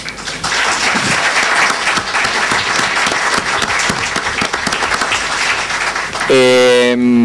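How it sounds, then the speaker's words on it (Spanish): Loud, sustained applause from a conference audience fills the room, and music swells in at the very end. "Le damos un fuerte aplauso."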